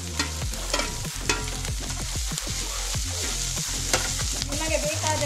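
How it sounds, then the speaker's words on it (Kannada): Capsicum and green chillies frying in a pan for a carrot and potato Manchurian, a loud, busy sizzle broken by repeated scraping stirs and knocks, close and continuous with no voices. "ದೊಣ್ಣೆ ಮೆಣಸು ಮತ್ತು ಸಿಮ್ಲಾ ಮೆಣಸನ್ನು ಹಾಕಿ ಚೆನ್ನಾಗಿ ಹುರಿದ ಮೇಲೆ ಕಾಯಿ ಮೆಣಸು ಹಾಕಿ"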